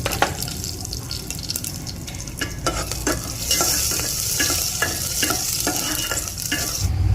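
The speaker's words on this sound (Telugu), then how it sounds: "మిరియాలు, తర్వాత ఆవాలు జీలకర్ర వేసి లైట్గా ఫ్రై చేయాలి." Black pepper, mustard seeds and cumin fry lightly in a pan for tamarind chutney, a steady close sizzle broken by repeated sharp stirring scrapes and taps against the pan.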